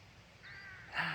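A rook caws once in a churchyard, a short harsh call heard at moderate distance over faint outdoor background.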